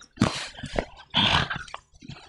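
A dog barks in several loud, close bursts, gruff and growly, with short gaps between them and no talk over it.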